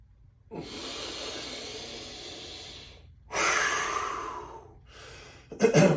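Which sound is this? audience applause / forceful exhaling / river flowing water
forceful exhaling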